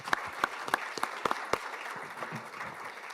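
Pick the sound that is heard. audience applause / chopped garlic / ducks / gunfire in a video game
audience applause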